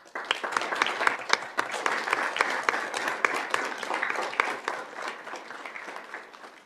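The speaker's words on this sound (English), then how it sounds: "We think they all deserve a huge round of applause." An audience at a school district governing board meeting claps in a steady round of applause, dense and sustained for several seconds before thinning slightly.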